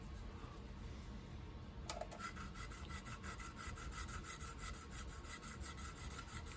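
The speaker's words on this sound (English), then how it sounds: "I'm block sanding, I'm kind of going both directions here" A sanding stick block-sands a model car body in short, quick back-and-forth strokes, a soft, close, rhythmic rasping that repeats steadily with no talk.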